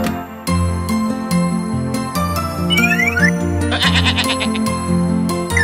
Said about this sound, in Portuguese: Bode.